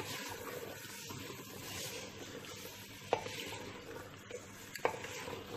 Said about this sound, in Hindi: हम कुछ टाइम तक इसे फाइव टू टेन मिनट्स अच्छे से भूनेंगे चिकन को